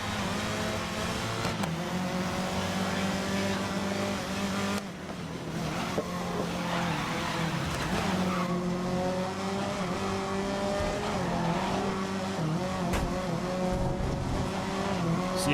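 Race car engines roar and rev in the GRiD video game, with gear shifts, rising and falling engine pitch and tire squeals, loud and continuous without talking.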